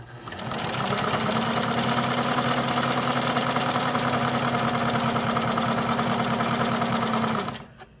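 A Singer 247 sewing machine zigzag-stitches through four layers of denim, running as a loud, steady mechanical whir with a fast, even needle rhythm for about seven seconds before stopping.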